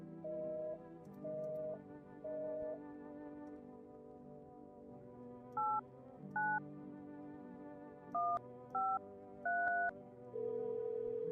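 Touch-tone keypad beeps from a phone being dialed in the horror game Paranoia, with paired tones in short bursts, first three evenly spaced, then a quicker irregular run, ending on a longer held tone over a steady low hum.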